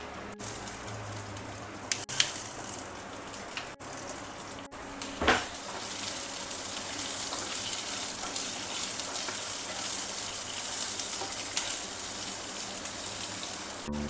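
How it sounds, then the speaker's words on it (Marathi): Cumin, garlic, ginger and green chillies fry in a pan for an Afghani paneer curry, giving a steady, dense sizzle throughout, broken early by a few brief clinks and stirring knocks. "जिरं घालायचं लसूण अद्रक हिरव्या मिरच्या"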